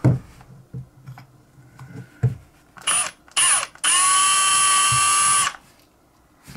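A drill bit meant for a smaller Ronson valve bores into a Zaima butane lighter valve, giving short whirring bursts and then a loud sustained high-pitched grinding whine that stops abruptly, with faint handling clicks between.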